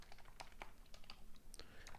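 Fingers type quickly on a computer keyboard in a rapid, uneven run of close, crisp key clicks. The taps are fairly quiet and no voices are heard.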